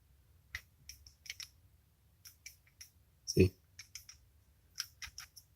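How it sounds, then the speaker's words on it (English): A single sharp, loud click from a wet RC car's rotating drivetrain stands out amid a scatter of fainter light clicks and ticks, with a low rumble underneath. "That's the rotation making a click."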